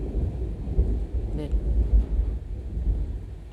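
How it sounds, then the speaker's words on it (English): Rumbling thunder from a thunderstorm rolls continuously as a low, loud background roar, with a brief voice heard over it. "I wonder how much of the thunder is going to show up"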